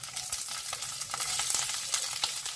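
Curry leaves, split green chilies and onions sauté in a hot pan with a dense, continuous crackling sizzle, close and lively, punctuated by brief stirring scrapes.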